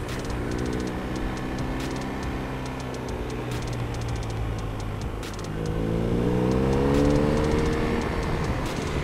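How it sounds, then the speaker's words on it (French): A BMW R1250RS motorcycle ridden on roads north of Nice gives a steady, close engine drone that swells and rises in pitch as the throttle opens about halfway through. "Elle marche bien cette moto, hein. Je la trouve vivante."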